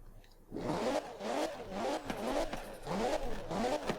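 Alfa Romeo 155 Q4 in the racing game Forza Horizon 4, its engine revving repeatedly in rising, sweeping bursts, loud and close, with no talk.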